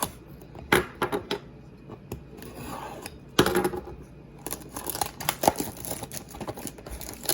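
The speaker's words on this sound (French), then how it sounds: "on ouvre les petites cartes" Packs of 2018-2019 hockey trading cards being torn open, five cards to a pack, with close crinkling wrapper tears and sharp paper scrapes and snips in irregular bursts, no voices.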